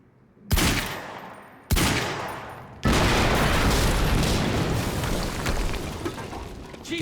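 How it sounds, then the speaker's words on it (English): Loud explosions in the Quantum Break video game: two sharp blasts followed by a third, larger boom that rolls on as a sustained, dense roar. "we just heard an explosion near the harvesting perimeter"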